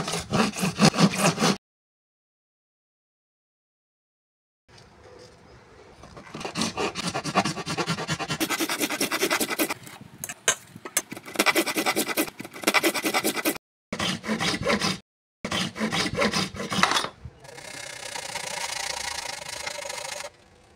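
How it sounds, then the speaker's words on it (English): A hand saw cuts diagonally through wood against a guide and support wall, making close, rhythmic rasping strokes in bursts, with silent pauses between the sawing passes. "Saw diagonally, with the help of the guide and the support wall aft."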